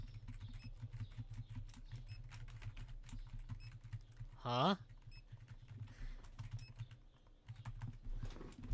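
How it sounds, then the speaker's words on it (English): Fast clicking of a computer keyboard while playing Supermarket Simulator, quick light taps in a steady patter under quiet background game sound, with a short spoken exclamation midway. "You guys heard the clickety clacks of my keyboard, right?"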